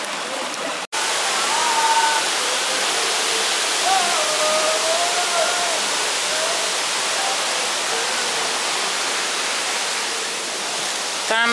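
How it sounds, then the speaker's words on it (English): A loud, continuous roar of rushing water from Tam Tong waterfall by the Mekong River in Thailand, steady throughout, with faint voices barely audible beneath it. "Tam Tong waterfall."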